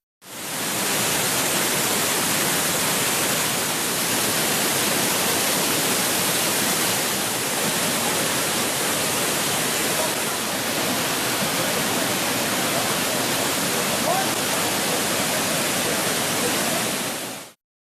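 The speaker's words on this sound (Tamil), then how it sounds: "சுருளியருவியில் வெள்ளப்பெருக்கு ஏற்பட்டுள்ளது" Floodwater roars over Suruli Falls in the Western Ghats after heavy rain, a loud, steady broadband rush that holds unbroken from start to finish with no voices.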